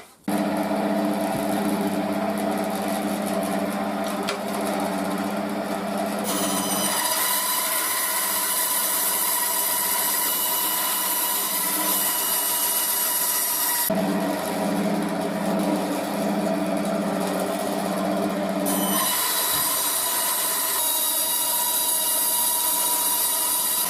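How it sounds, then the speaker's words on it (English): A bandsaw cuts slabs for a full tang knife handle, with a loud, continuous whining drone and shifts in pitch as the blade moves through the material. "I'm going to take that onto the bandsaw now, and I'm going to, both slabs, I'm going to cut them."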